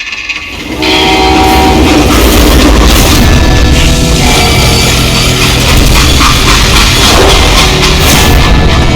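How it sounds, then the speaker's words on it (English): A loud train from the Western shooter game Call of Juarez: Gunslinger starts suddenly, then holds a heavy, continuous rumble with rattling wheels and horn-like tones, close and unbroken with no talk. "How'd they stop this train in the first place?"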